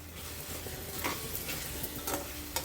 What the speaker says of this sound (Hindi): आधा चम्मच गरम मसाला, अच्छे से मिक्स करना है।